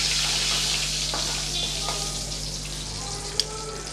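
Tempering of curry leaves and asafoetida sizzles as it is stirred into brinjal thokku, a steady hiss of frying under a few soft scraping stirs and one brief clink near the end.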